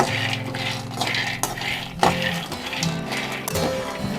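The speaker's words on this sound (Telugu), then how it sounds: "ఇదండి పల్లీలు మనం వేయించుకుందాం అవి పచ్చి పల్లీలు కదా ఇప్పుడు మనము బాగా అవి వేయించుకోవాలి" Raw peanuts being dry-roasted and stirred in a pan for peanut chikki, with steady scraping and rustling and several metallic clinks of a spoon against the pan, continuous at close range.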